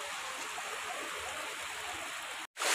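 A mountain waterfall roars as a steady, dense rush of falling water, loud and close, running unbroken until a brief cut near the end.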